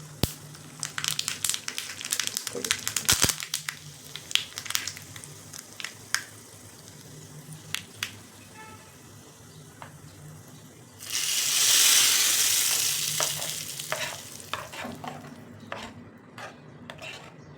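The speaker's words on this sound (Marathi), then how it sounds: "तर तडका देण्यासाठी तेल तापवून घेतले, त्यामध्ये मोहरी घालायची." Mustard seeds hit hot oil for a tadka tempering, bursting into a loud, hissing sizzle partway through after a stretch of clinks and kitchen clatter.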